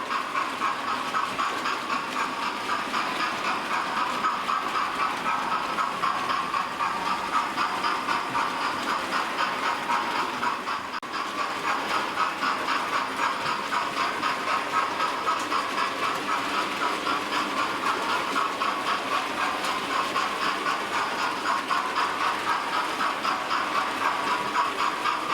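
A Hornby Merchant Navy class model steam locomotive runs continuously with a steady mechanical whir and faint rhythmic clicking on track, moderately quiet and close, no voices.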